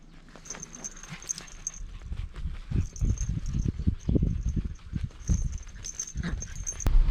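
Dogs barking repeatedly at a distance in the morning at a campsite in Korea, an irregular chorus with a faint high insect-like hum running through the background.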